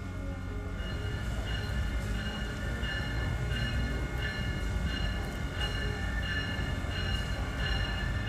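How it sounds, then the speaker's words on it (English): A pair of Amtrak ACS-64 electric locomotives backing down a station track, a steady loud rumbling rail drone with faint rhythmic wheel clicks, heard nearby with no talk. "two ACS-64s begin backing their way down track 23."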